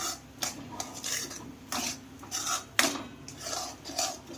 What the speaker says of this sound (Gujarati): સરખી રીતે મિક્સ કરવાનું છે